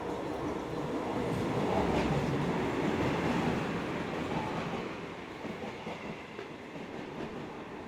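A train pulls in at a station at night: a steady, rumbling rail roar with clattering wheels swells, then eases off as it slows, loud and close with no voices.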